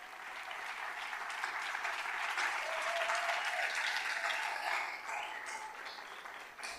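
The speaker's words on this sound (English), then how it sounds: "Big round of applause to all of them." An audience at a town hall in San Luis applauds the organizing team, a fairly faint but steady spread of clapping that builds slightly and then tapers off near the end.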